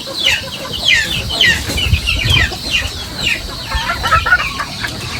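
Hens and chicks cluck and peep busily while feeding, a dense close chorus of repeated clucks and high chirps with no talk.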